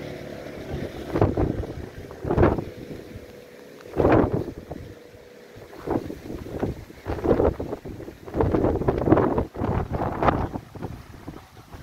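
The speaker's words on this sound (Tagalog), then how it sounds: "Lakas ng hangin." Strong wind on a mountainside at Lago di Suviana, Italy, buffets the microphone in repeated heavy gusts, a deep rumbling roar that swells and fades every second or two, with no talking.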